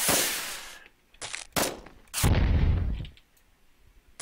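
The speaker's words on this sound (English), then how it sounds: "Rocket launcher! I choose you!" In a zombie defense video game a rocket launcher fires, with several loud explosive blasts and bursts, the last one a long booming rumble, heard alone.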